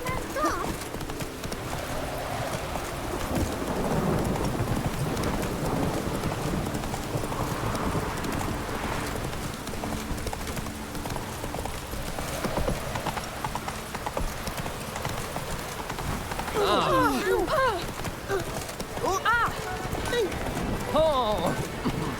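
In The Witcher 3, the horse Roach trots with a continuous rhythmic clip-clop of hooves under ambient game sound, while someone speaks over it at times and a brief whinny-like tonal sound rises near the end.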